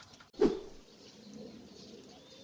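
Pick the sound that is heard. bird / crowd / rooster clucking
bird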